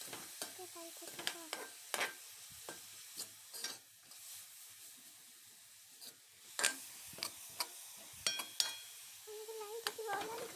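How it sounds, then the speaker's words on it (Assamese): Grated coconut frying in a pan for coconut laru, stirred with repeated sharp scrapes and clicks over a continuous hiss. A voice speaks faintly underneath. "আৰু দিয়াৰ লগে লগে এনেকৈ লৰাই থাকিব আপোনালোকে নহ'লে লাগি যাব"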